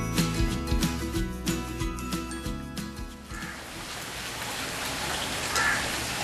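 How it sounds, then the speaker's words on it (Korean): Steady morning rain pattering in hot, humid Sri Lanka, mixed at first with rhythmic tones and thumps, then a wide even hiss of falling drops continuing alone. "아침부터 사보다야에 비가 내립니다."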